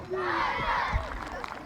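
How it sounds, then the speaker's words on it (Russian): Football fans fill the stands with a constant roar at the final of an international youth tournament, a steady crowd din running beneath a commentator's voice. "На трибунах болельщики, ну, просто не замолкают"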